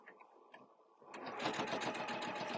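A sewing machine starts up and then runs at a steady, close whir while stitching quilt binding in the ditch, after a second of near quiet with a few light clicks.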